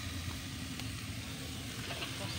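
Squid frying in a pan for adobo, a continuous dense sizzle and hiss with faint stirring scrapes, steady throughout at moderate loudness.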